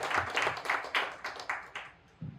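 A small audience claps for an executive panel of SAP leaders, sparse distinct claps in an uneven rhythm that thin out and fade, with one last clap near the end.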